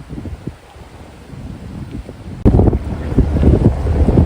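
Strong wind buffets the microphone at a ferry pier on Koh Samui, a low roaring rush with uneven gusts that jumps sharply louder halfway through and stays loud.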